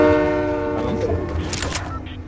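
A train in the video game Fortnite sounds its horn, a loud sustained blast that fades over a couple of seconds into rumbling and hissing.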